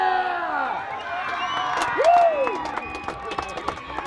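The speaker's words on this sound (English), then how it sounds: "And the home crowd is loving that." Home crowd at a country football match cheering and clapping after a kick, rising roar with whoops and scattered claps, a voice shouting over it amid the noise.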